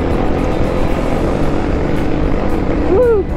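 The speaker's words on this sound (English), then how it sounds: "So right now I'm giving you full throttle on the KLX250." A Kawasaki KLX250 dirt bike engine roars at full throttle climbing a steep hill, a loud, close, sustained drone. A rising vocal whoop cuts in near the end.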